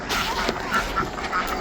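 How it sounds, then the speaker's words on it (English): Several farm ducks leaving their house quack repeatedly in a loose, overlapping rhythm, close and fairly loud, with no talk over them. "Come on out, ducks."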